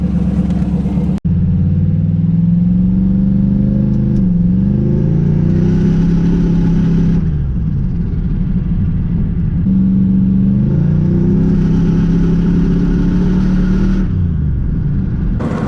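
A turbocharged LS-swapped Ford Mustang engine rumbles loudly up close, rising through several long accelerating pulls with whooshing boost and droning revs, easing between surges.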